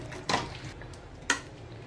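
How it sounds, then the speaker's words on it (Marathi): Two sharp clinks of a spoon scraping and knocking against a metal pot while mutton curry in hot water is stirred over a high gas flame, fairly quiet, with a low steady background hum between the strokes. "आता याला पुन्हा हलवून घेणार आहे मी"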